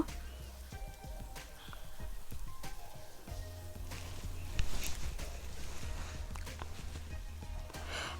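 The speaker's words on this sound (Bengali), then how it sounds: "সবগুলোকে আমি একটু ভালো মতো ভেজে নেব নরম করে নেব" Spring onions, chopped chillies and onions frying in a pan for cauliflower manchurian, a steady crackling sizzle with scattered pops that runs throughout and stays close.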